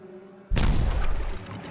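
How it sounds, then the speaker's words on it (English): A sudden loud boom from an explosion in the Timberborn video game hits hard and rumbles on for about a second before easing into a lingering low roar. "Okay, it blew up."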